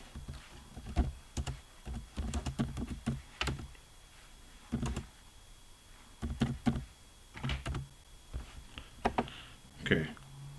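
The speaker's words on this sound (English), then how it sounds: "Let me type this in real quick." Quick bursts of typing on a computer keyboard, clustered keystroke runs separated by brief pauses, fairly close and clear with no talking over them.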